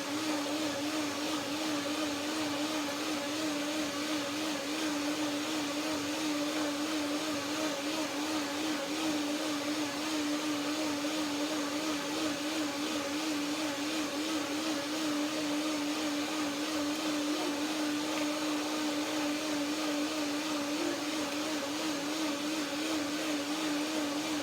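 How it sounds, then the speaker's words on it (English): A blender runs continuously at a steady, loud whir, its motor drone unbroken for the whole stretch with no voices. "One more blender dance."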